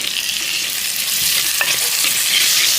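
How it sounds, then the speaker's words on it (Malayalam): Two tomatoes sauté in a pan with ginger-garlic paste for chicken curry, giving a steady, close hiss of frying with light stirring throughout and no talking. "ഒരു രണ്ട് തക്കാളി എടുത്തിട്ടുണ്ട് അപ്പോൾ നല്ലപോലെ ഒന്ന് വഴറ്റിയെടുക്കും"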